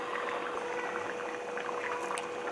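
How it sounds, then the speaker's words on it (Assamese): A pot of masoor dal curry with banana flower and meat boils on the stove, giving a soft, continuous bubbling and simmering texture with faint pops, close but quiet, and no voices. "এয়া আৰু অকণমান সময় উতল আহি গ'ল"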